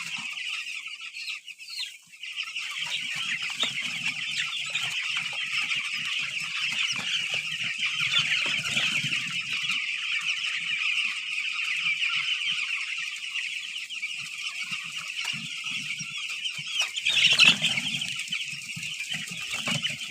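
Farm chickens kept in a cage system cluck and murmur close by, with scattered soft calls and a brief flutter of wings over a steady background hiss.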